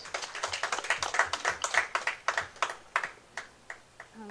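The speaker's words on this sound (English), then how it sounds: "A round of applause, please." A small audience claps for a speaker at an agreement signing ceremony, a sparse, fairly quiet patter of individual hand claps that thins out and fades over a few seconds.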